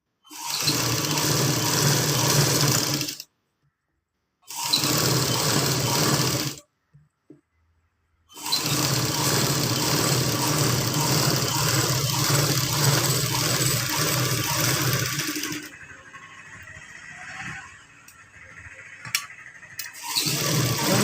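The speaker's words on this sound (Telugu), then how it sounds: "మిషన్ కుట్టే వేస్తాను నేను" A sewing machine stitches rows on a blouse in steady motorized bursts, whirring loudly for a few seconds at a time with short silent pauses between runs, then quieter clicks and handling noises near the end.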